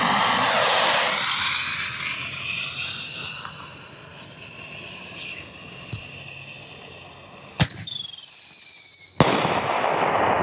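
A TNT Mini Canister firework shell, a yellow one, lifts off with a rushing whoosh and, after a few seconds, a sharp burst and a crackling, high-pitched hiss ring out near and loud.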